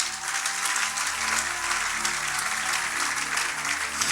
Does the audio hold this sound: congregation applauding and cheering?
yes